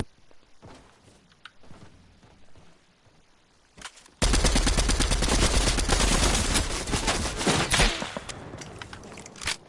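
Rapid gunfire in a Fortnite match erupts after quieter shuffling and scattered shots, a loud sustained burst of automatic fire that fades toward the end.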